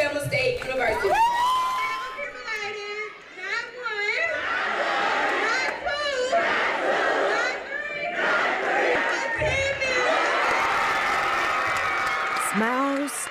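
Students cheer, whoop and clap in a high school auditorium at a scholarship announcement celebration, a loud, continuous crowd roar with excited shouts and voices throughout.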